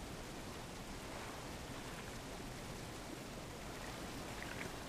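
A waterfall in the fishing game DREDGE gives a steady, even broadband rush of falling water that fills the whole stretch without pause, soft and constant with no voices.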